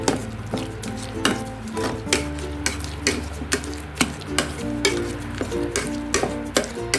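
Cooked rice being mashed with milk in a pot for curd rice: repeated wet squishing and scraping strokes with spoon knocks against the vessel, over a steady low background hum.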